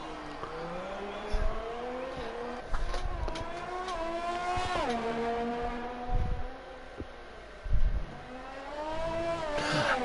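A race car engine on a simulated Canadian circuit, revving up through gears with rising pitch and brief lifts into a chicane, droning steadily and fairly close without any talking.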